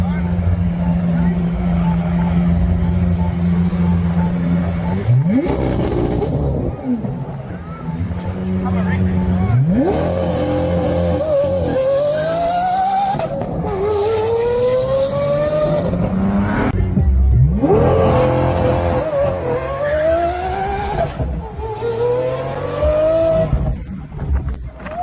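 A Lamborghini and a Tesla Cybertruck race each other, with repeated rising engine and motor whines as they accelerate, along with tire noise, loud and close, under steady talk throughout.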